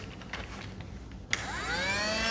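Toy Dyson vacuum cleaner powered by three AA batteries, clicking on after a moment of quiet handling noise and then whirring steadily with a thin, high motor whine that rises to speed.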